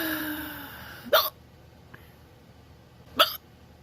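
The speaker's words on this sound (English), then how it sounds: "Turns out it's a little hard to take a nap when you've got the hiccups." Two sharp hiccups from a person about two seconds apart, close and fairly loud against a quiet background, with a faint small sound between them.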